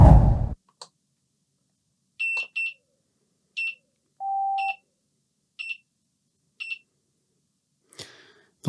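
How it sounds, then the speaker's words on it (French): A Begode Monster Pro electric unicycle powers on in transport mode and gives a series of short, sharp, evenly spaced electronic beeps with one longer, lower tone in the middle, all clear against near silence. "les bips que vous avez entendus, normalement 5, si je ne m'abuse, ça veut dire que la roue est en mode transport"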